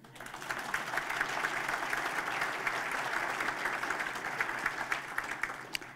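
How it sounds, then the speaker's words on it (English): Sustained audience applause at a civic State of the City event in San Buenaventura, many hands clapping in a steady dense wash for the full stretch, moderately distant and unbroken by talk. "please, you may now applaud"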